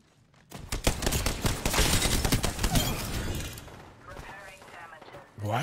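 Rapid bursts of gunfire from the Apex Legends video game, a dense loud volley in the first half that tapers into softer scattered effects, with chatter mixed in.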